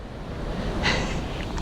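A river runs through a rocky canyon in Albania, giving a steady, moderately loud rush of broadband water noise with no voices.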